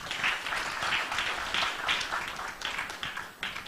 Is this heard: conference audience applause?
yes